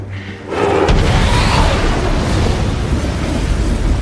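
A loud, close bomb explosion at a military base building bursts after a brief quiet moment, followed by a long rumbling, crackling roar that slowly fades.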